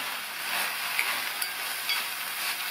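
Drumstick leaves (keerai) cook in a pan, a steady soft sizzle with a few faint clicks of stirring, close by and without talk.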